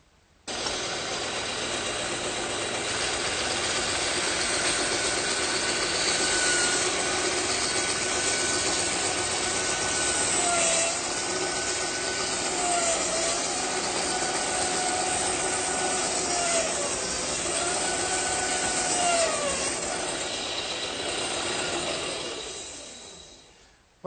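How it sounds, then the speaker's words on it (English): Bandsaw cutting curved arcs in wooden leg pieces for a blanket chest, a steady loud motor hum running nearly 24 seconds with rising and falling tonal sweeps as the blade follows the curves, then winding down. "I'll use this piece as a pattern to do my layout, and I think I'll cut them over on the bandsaw."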